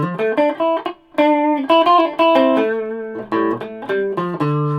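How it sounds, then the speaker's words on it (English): A driven electric guitar through a Vox AC15 amp plays a quick melodic run with a gritty, mildly distorted amp tone, notes clear and close with brief pauses. "when you hit it hard, it's got Vox distortion."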